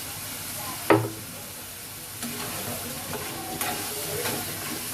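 Chilli crab frying in a pan as oyster sauce is poured in, a sharp splash and sizzle burst near the start, then steady frying hiss with scraping stirs, close and moderately loud.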